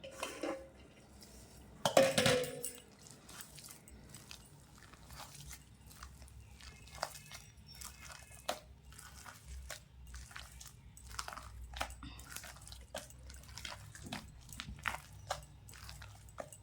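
Grated ash gourd is worked by hand into urad dal paste for bori, giving soft wet squelches and irregular squishing strokes close up, with one louder clatter of a bowl early on.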